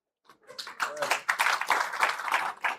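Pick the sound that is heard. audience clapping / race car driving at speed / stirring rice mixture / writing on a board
audience clapping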